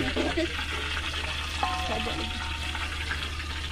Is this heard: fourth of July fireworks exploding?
no